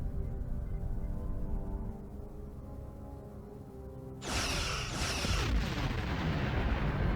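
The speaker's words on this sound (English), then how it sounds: "Target that ship, and fire all weapons!" Starship weapons fire in the Star Trek Online game against an Undine planet killer, a low rumbling hum that erupts midway into a loud, sustained roar of blasts and explosions with no talk over it.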